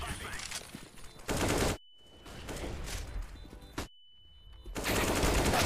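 Rapid automatic gunfire from the video game CS:GO crackles in dense, loud bursts, broken by two short silent gaps, with a faint thin tone in between.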